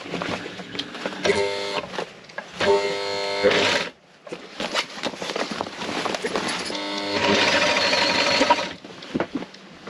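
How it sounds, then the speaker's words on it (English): Sewing machine stitching fabric in several bursts, each a close, loud mechanical whir with rapid needle rattle, separated by brief pauses and handling noise. "I've sewn all the way round, and I accidentally have sewn one of the straps"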